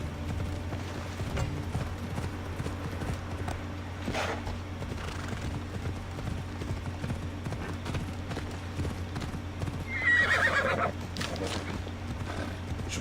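Assassin's Creed Odyssey game audio with a horse neighing over a steady low hum and continuous clip-clop of hooves, with a louder whinny burst near the end.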